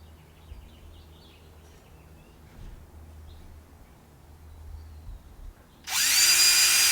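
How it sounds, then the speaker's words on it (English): Quiet rumbling ambience with faint chirps, then a loud, steady power drill whirs up abruptly near the end and keeps running, drilling into the roof of a Sprinter van. "so I know where on the roof I'm going to drill the larger ones"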